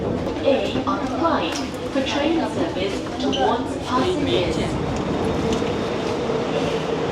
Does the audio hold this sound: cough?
no